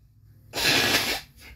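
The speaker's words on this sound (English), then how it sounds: "Sorry. Had to blow my nose." Someone blows their nose once, close by: a single forceful nasal honk lasting about half a second, then a faint sniff, against a quiet background with no talking.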